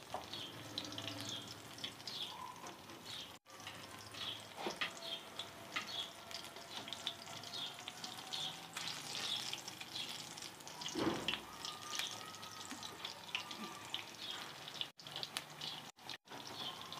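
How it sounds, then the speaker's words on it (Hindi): Pakoras fry in hot ghee in a kadhai, a soft continuous sizzle and bubbling hiss with occasional small pops and clicks, fairly faint and steady, with no talking. "घी गर्म हो चुका है तो हम पकौड़े स्टार्ट करते हैं डालना।"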